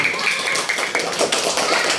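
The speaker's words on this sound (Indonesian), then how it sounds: "Terima kasih tepuk tangan yang buat" Classroom applause from a group of students, a brief steady patter of claps with no speech over it.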